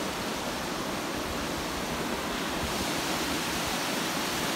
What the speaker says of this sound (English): Raging river at the moment.